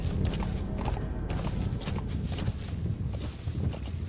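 Horse hooves clip-clopping on dirt in Metal Gear Solid V, a steady walking rhythm of close, muffled thuds repeated across the stretch, with faint clinks and background ambience and no talking.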